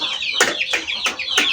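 A chicken clucks close by in four quick, sharp bursts at an even rhythm, with no talk over it.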